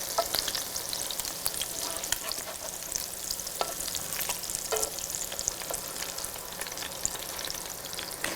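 Shrimp cakes fry in an electric skillet with a steady, close crackling sizzle and scattered sharper pops, unbroken throughout with no voices.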